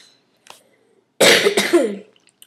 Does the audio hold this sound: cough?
yes